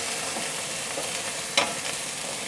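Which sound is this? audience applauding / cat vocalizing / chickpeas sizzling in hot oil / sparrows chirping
chickpeas sizzling in hot oil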